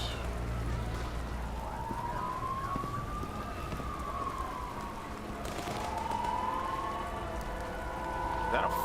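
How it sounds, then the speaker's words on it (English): Fire engine siren wailing in rainy weather in the video game Nobody Wants To Die, rising and falling slowly over steady rain hiss, moderately distant and continuous throughout. "That's a fire engine."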